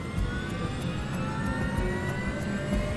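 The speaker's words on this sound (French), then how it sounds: "il enregistre le bruit des moteurs depuis l'intérieur du poste de pilotage" Twin jet engines of an airliner roar from inside the cockpit at takeoff power, a dense continuous drone with faint rhythmic pulsing throughout.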